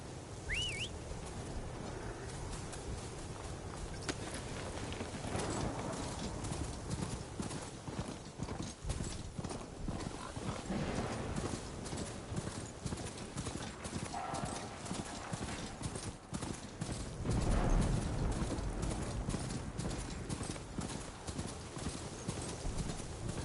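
Steady clip-clop of horse hooves under a rider in a video game, continuous and fairly close across the whole stretch amid a busy ambient bed with faint birdsong and a brief whistle-like tone.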